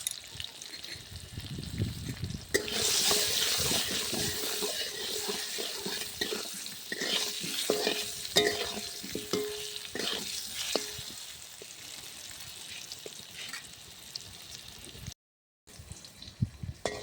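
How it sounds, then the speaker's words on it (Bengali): Potato pieces fry in a little oil with salt and turmeric while being stirred, giving a steady sizzle broken by scraping strokes, with a brief silent gap near the end. "অল্প তেলে আলু কটা লাল লাল করে ভেজে তুলে নেব।"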